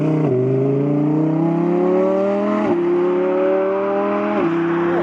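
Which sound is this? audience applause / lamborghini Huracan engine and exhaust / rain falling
lamborghini Huracan engine and exhaust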